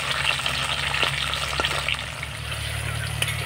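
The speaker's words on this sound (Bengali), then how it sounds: "এবার টমেটোটাকে হালকা করে নাড়াচাড়া করে ভেজে নেব একটুখানি।" Chopped tomato fries in hot oil with cumin for a fig dish, giving a loud, continuous close sizzle with light, occasional stirring taps throughout.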